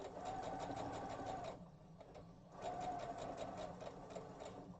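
A sewing machine stitches slowly around a fabric circle for a Valentine envelope, its steady rapid needle chatter running in two bursts with a brief pause between them, close and clear with no talking.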